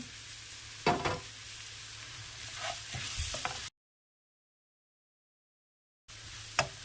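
Chopped banana stem hisses as it goes into hot oil for a pickle, a bright steady sizzle with a couple of stirring clatters before a dead gap, then a short return of sizzling and a clink.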